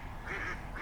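Ducks quack outdoors, a short, nasal call rising over a constant background hum, close and alone without speech.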